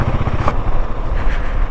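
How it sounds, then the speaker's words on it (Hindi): A motorcycle rolls in neutral on a Himalayan mountain road, giving a steady, close, low rumble with wind noise and a faint engine murmur. "चलो भाई न्यूट्रल में करके ले चलते हैं बाइक को"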